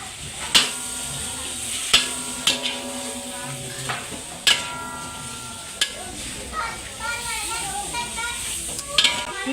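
A sweet and sour dish being stir-fried in a pan, with a steady sizzle broken by sharp clanks and scrapes of a utensil against the pan, while people talk over it.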